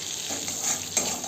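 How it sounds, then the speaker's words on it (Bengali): Whole dry red chillies, whole garam masala and cumin seeds sizzle briefly in hot oil, with a soft crackle and a light stir close by. "ভাজা একই তেলের মধ্যে আমি গোটা শুকনো লঙ্কা, গোটা গরম মশলা আর গোটা জিরে দিয়ে দেবো।"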